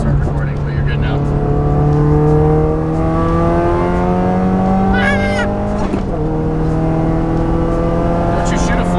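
A fuel-system-repaired full-bolt-on car engine revs up hard in a rising pull, briefly dips for a gear shift, then climbs again. It is loud and close, with a voice talking over it.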